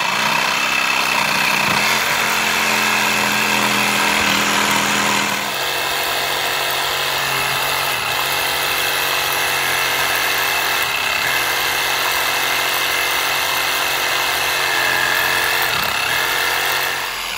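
A power saw runs loud and continuous for a long stretch, cutting old porch wood in half, with its pitch shifting slightly as the blade bites.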